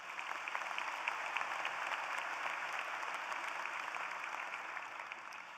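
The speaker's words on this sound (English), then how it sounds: "So please, another round of applause." Applause at an engineering commencement ceremony, a large hall crowd clapping steadily and evenly throughout, moderately distant.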